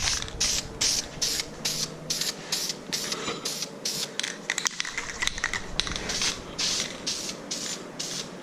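Short, repeated hissing bursts of spray as a tint coat is sprayed onto a project, close up, in an even rhythm of about two bursts per second.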